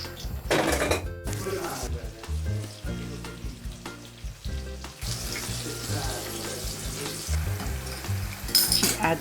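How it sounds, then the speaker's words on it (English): Slices frying in a pan until golden give a sizzling crackle mixed with clatter, running water and stirring in a home kitchen, moderately quiet and continuous. "fries the slices until golden on both sides and then drains them in a colander"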